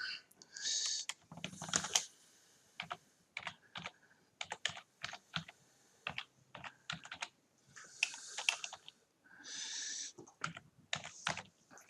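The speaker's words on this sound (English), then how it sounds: "you type in your email address that we gave you" Fingers type an email address on a computer keyboard: close, uneven clusters of plastic key clicks with short pauses between bursts, alone without speech.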